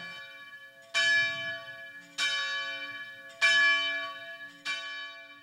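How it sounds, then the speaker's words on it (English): A church bell tolls four times at a slow, steady pace, each strike ringing out and decaying into the next, with no voices. "The bell when the bell came, then that was the call for morning prayer."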